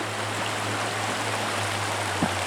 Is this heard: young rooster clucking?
no